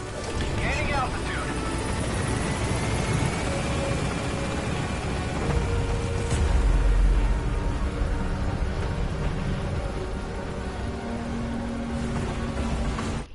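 Helicopter in Metal Gear Solid V: The Phantom Pain climbing in a steady, loud broadband rotor and engine rumble that holds for the whole stretch, swelling briefly near the middle.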